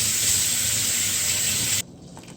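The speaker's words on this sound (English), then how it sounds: "So let's rinse our rice." Tap water gushes in a loud, steady hissing stream while rinsing rice, then cuts off abruptly near the end, leaving quiet room noise.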